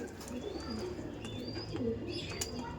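Faint Andhra pigeons cooing repeat at a distance, soft throaty notes with occasional high chirps over a steady background hum.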